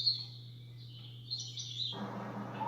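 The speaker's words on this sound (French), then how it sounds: "Après, les oiseaux." A white noise night light plays recorded birdsong: a few high, thin chirps and twittering calls, quiet and close. Near the end a soft broadband rustle comes in beneath them, and no one speaks.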